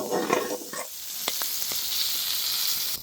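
Green chilies sauté in an oil-filled pan for a Chettinad green chili tamarind thokku, giving a steady close sizzle with a few soft stirring scrapes and clicks, and no voices.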